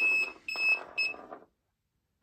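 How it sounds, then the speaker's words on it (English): A non-contact voltage detector with a sensitivity dial, set to maximum, beeps near a cable inside a wall: three close, bright electronic beep bursts, then silence. "move the detector, I can detect where the wire is in the wall"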